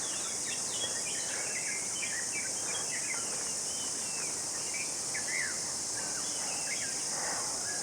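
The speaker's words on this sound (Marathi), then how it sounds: "पक्ष्यांचा चिवचिवाट सुरू झालेला आहे" Early-morning outdoor ambience in the hills of Nerur near Kudal, with a steady insect drone under scattered, fairly distant bird chirps and twitters.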